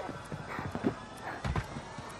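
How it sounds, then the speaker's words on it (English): Footsteps in the Fortnite video game thud in an irregular run of soft, muffled impacts amid game noise, with no talking over them. "I hear footsteps."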